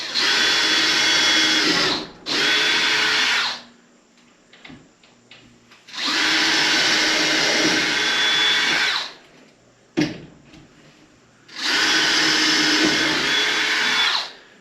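A power drill drives screws into boards while installing an attic ladder: three loud, close bursts of whirring motor, the first split into two short runs, separated by quiet gaps with light handling noises.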